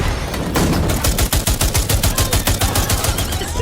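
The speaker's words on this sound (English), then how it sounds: "It's Hedges who starts firing at everyone." Rotary cannon blazing away in a western film shootout, a loud, dense, rapid stream of gunfire that pounds on without a break for a few seconds.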